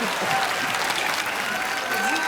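Studio audience of a Hindi TV comedy show applauding, a dense continuous burst of clapping that stays steady and full, with faint voices or music beneath.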